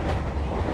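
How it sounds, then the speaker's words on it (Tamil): A passenger train on the Vellore to Chennai route runs at a fair speed, giving a steady, continuous rumble with broad wind-like noise, loud and close throughout a brief moment. "ட்ரெயின் பார்த்திங்கன்னா இப்போ தாங்க ஓரளவுக்கு ஸ்பீடாக போகுது"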